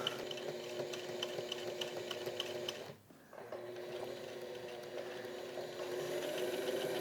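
A sewing machine stitches Velcro onto a backpack lining, running steadily with a brief pause near the middle before resuming its even mechanical whirr.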